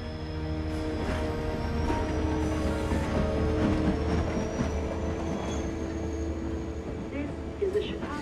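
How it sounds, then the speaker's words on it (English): A Chicago-bound passenger train rumbles along with a steady low drone, faint wheel squeal and rail clatter throughout. "This is a Chicago-bound train."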